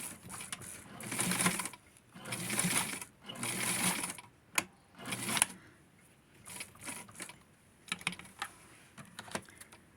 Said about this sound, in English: I'm going to use the sewing machine to connect it